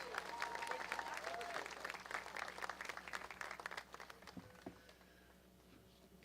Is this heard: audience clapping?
yes